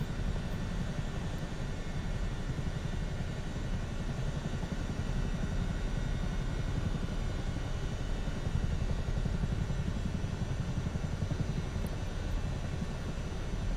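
A Chinook helicopter in a flight simulator game gives a steady, dense rotor and engine drone that holds at an even level throughout, with no talking.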